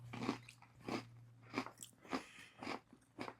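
Sugar-free Oreo imitation cookie being crunched, heard as a series of about six sharp, close crunching bites spaced roughly half a second apart, crisp and distinct over a quiet low hum.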